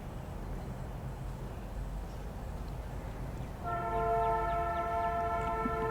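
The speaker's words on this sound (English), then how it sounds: "You can hear the train in the background" A low train rumble hums in the distance beside a river, then a long, sustained train horn sounds, clear but not close.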